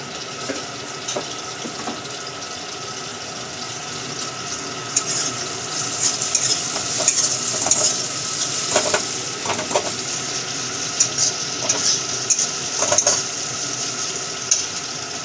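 Browned onions sizzle in a pan after a pinch of salt goes in, a steady close hiss with scattered crackles and occasional stirring scrapes, no talking.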